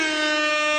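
An air horn sound effect lets out a single loud, steady blast lasting under a second.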